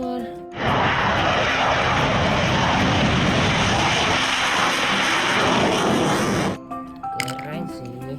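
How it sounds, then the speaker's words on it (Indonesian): A fighter jet's engine roars loud and steady for about six seconds, a dense broadband blast that cuts off sharply, with a voice speaking before and after it. "muncul jet tempur."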